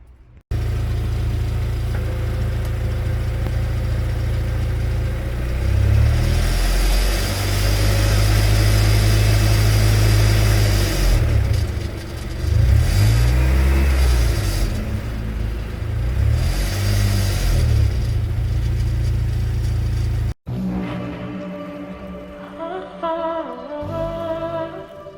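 An Audi A4 B5 Quattro engine with a suspected rattling flywheel runs and revs, a loud low rumble rising and falling in several rev swells before cutting off abruptly, followed by a brief quieter section.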